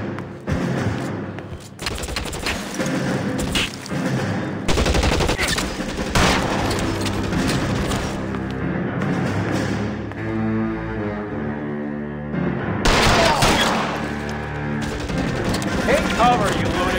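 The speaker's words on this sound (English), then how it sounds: "Shots fired" Gunfire erupts in L.A. Noire, loud repeated bursts of shots and rapid volleys with short pauses between, set against a dense, continuous game soundscape.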